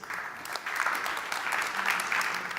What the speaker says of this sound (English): A round of applause to Juris.